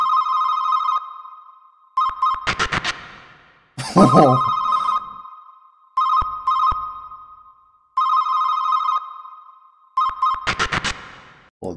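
Cell phone ringtone effect from an Incredibox Scratch mod, a bright electronic melody looping in short repeated bursts with brief gaps, loud and close, with a short burst of speech partway through.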